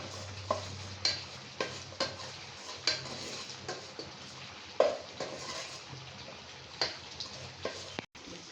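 Potatoes being stirred in a frying pan with a little salt, for chicken biryani made with basmati rice: a steady low sizzle with repeated sharp scrapes and knocks of a utensil against the pan, close and moderately loud, no talk.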